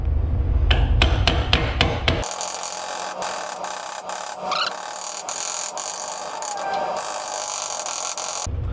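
A hammer taps out a gasket with a quick run of six sharp, close, evenly spaced strikes, followed by a quieter stretch of light scraping and shop noise with a few faint knocks.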